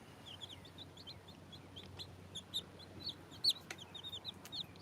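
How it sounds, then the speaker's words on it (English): Chickens cluck in a rapid, scattered chorus of short high calls, several birds close by, with a few sharp knocks and no talk. "Oh, that's them ugly chickens, ain't it?"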